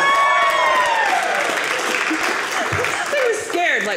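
A comedy club audience at a stand-up special claps and cheers, a sustained wash of applause with whoops, while a voice speaks over the crowd noise.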